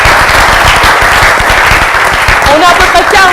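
Audience of about forty people applauding at a live show, loud close clapping under a speaking voice, the claps blurring into a steady roar.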